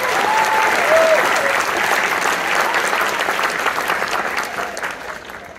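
A large audience in a high school auditorium gives a loud, sustained wash of applause at a Christian school Christmas play, with a few faint whistles or cheers early on and a gradual fade toward the end.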